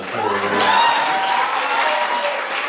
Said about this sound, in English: Third on our list, you make some noise for our maid of flowers, Lauren.